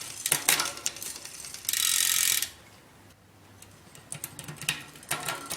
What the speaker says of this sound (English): unthread the high adjustment screw just a little bit at a time until the chain falls down into that easiest gear